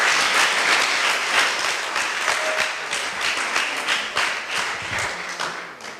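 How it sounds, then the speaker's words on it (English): An audience at a children's cricket camp gives a sustained round of applause, dense and loud clapping from many hands that fades slightly toward the end. "Give them another round of applause."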